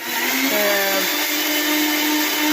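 A steady, loud mechanical whirr of a mixer grinder blending milk for a shake, running continuously, with a brief shift in pitch near the start and no talking.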